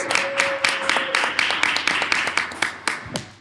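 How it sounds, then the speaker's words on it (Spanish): A studio audience claps loudly and steadily through the whole moment, a dense run of hand claps with sharp accents, greeting the start of the Chilean football talk show Camarín 90. "Fuertes aplausos para Camarín 90."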